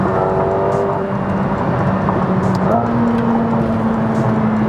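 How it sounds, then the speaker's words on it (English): A 2020 McLaren 720S Spider's twin-turbo engine roars loudly and steadily, with rising tones as the turbochargers spool up while the car is driven in manual mode. "turbochargers when they spool."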